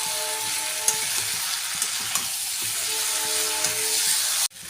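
Boiled jackfruit and potato are sautéed in a pan with a steady, close frying hiss and a few faint stirring taps, cutting off abruptly near the end.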